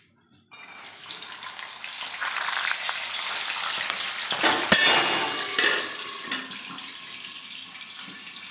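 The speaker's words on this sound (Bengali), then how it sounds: "তেলটা গরম করে নেব ভালোভাবে। এবার আমি মটরগুলো দিয়ে দিচ্ছি কম কম করে।" Spicy peas hit hot oil with a sudden rush, then fry in a loud, steady hiss that swells and crackles before easing slightly, with a few stirring knocks and no talking.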